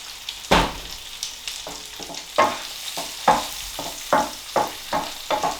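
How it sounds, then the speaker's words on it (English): Onions sweating in olive oil with spices in a pan sizzle softly while a utensil stirs them in repeated scraping strokes, roughly one every half second, close and clear, with no talk. "we're just sweating down the onions with those lovely spices"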